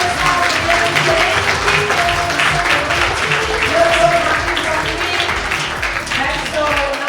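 Audience applause fills a hall during the Miss Aurora 2024 beauty pageant selection at Villa Barbarigo in Legnaro, steady dense clapping throughout, with an announcer's voice over it.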